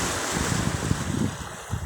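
Sea surf off Joroan, Tiwi, Albay, washing steadily on the shore with a low rushing roar, mixed with gusty wind buffeting the microphone, no voices.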